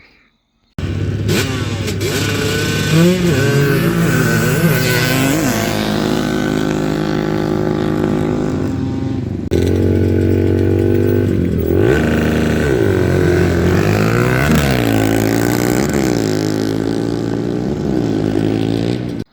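A Kawasaki Brute Force ATV with 2012+ cams and a timing problem, running at the track with a loud, buzzing engine that revs up and down repeatedly and continuously, close by.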